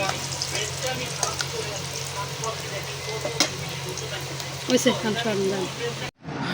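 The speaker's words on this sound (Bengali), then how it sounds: "এই যে হলো লাউ শাক ভাজি" Bottle gourd greens (lau shak) frying in a pan on a home stove, a steady close sizzle with occasional stirring clatter, while someone talks over it, cutting off abruptly near the end.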